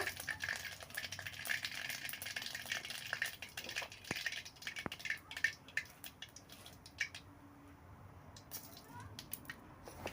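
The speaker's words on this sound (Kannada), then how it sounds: "ಸಾಸಿವೆ ಚೆನ್ನಾಗಿ ಚಟ್ಪಟ್ ಚಟ್ಪಟ್ ಅಂತ ಹೇಳಿ ಸಿಡಿಬೇಕು" Mustard seeds spluttering and popping in hot oil for a greens stir-fry, a quiet irregular crackle of small pops and sizzle with occasional sharp clicks.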